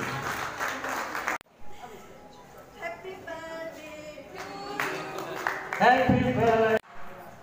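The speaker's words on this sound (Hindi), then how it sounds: "तो एक बार और तालियां फिर सीमा जी के लिए" An audience at a poetry reading and cultural program applauds for a woman on her birthday, a brief burst of clapping at the start that cuts off and gives way to voices and music, with louder noise near the end.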